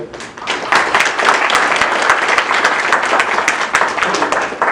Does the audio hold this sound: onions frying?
no